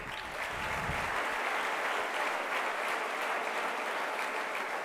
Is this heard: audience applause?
yes